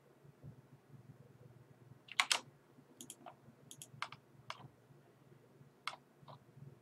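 A new computer keyboard clicked in a quiet room, with a dozen or so crisp, separate key clicks that come in small uneven bursts, close but fairly soft, over a low background hum.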